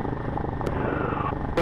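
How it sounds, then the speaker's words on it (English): A Cessna 150 taxiing on a grass runway, heard from inside the cockpit as a steady, loud propeller-engine drone with no break across the short stretch. "Cessna 66589 are taxiing back to runway 2 in the grass."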